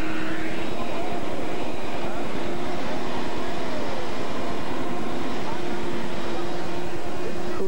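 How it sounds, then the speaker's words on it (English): Continuous loud roar of a wind tunnel vacuum, a steady rumbling rush with a fast low pulsing throughout, heard in a television commercial with some voice mixed in. "Wind tunnel vacuum."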